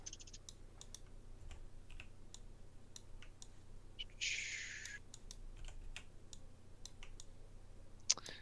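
Rapid computer keyboard typing during a development livestream, a steady run of light clicking keystrokes with a brief louder burst near the middle, close and alone without talk.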